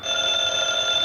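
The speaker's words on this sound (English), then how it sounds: "I believe that's the phone." An old-time radio drama telephone gives one continuous, loud, bright electric ring that holds steady and alone for about a second.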